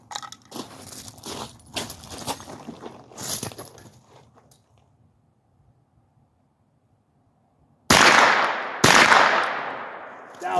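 Rifle shots fired at long-range targets at 300 to 500 yards, two loud sharp reports near the end after a quiet stretch, with talk earlier on.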